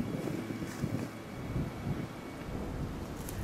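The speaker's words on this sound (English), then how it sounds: "It was pretty windy" Gusty wind buffeting the microphone in low rumbling bursts during a cold, windy pigeon roost shoot, steady and close, with no talking.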